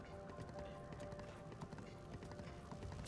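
Horse hooves clip-clop in the video game Breath of the Wild, a quick run of hoofbeats at low level beneath game music and effects.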